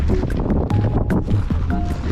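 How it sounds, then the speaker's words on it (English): Strong gusts buffet the microphone at a rocky lookout high on a big rock formation, a continuous loud rumbling wind roar with fluctuating bursts throughout. "So windy!"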